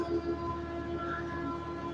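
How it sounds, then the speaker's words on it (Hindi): A steady, droning train departure siren holds through the whole stretch at a railway station, sustained and fairly loud over a hum of background noise, with no talking. "ये देखें, सायरन भी बज गया है"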